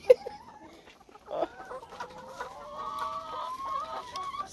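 Farm chickens cluck softly in a barnyard, with scattered short clucks and a drawn-out call that trails on at a moderate distance, no voices.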